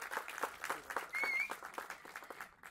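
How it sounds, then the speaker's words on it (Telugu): An auditorium audience at a press event applauds, with dense, steady clapping that runs through the whole stretch at moderate distance and fades slightly at the end. "ఈ ఆడిటోరియం అంతా కూడా చప్పట్లతో దద్దరిల్తే చూడాలని ఉంది"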